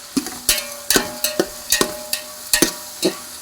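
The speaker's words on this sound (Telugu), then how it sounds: "ఈ మొత్తం బాగా కలుపుకోవాలండి ఇదిగోండి చక్కగా ఇవన్నీ బాగా కలుపుకోవాలి" Andhra-style country chicken dum biryani mixture being stirred in a metal pot, a steady rhythm of about nine sharp scraping clanks of a ladle against the pot, close and clear with no voices.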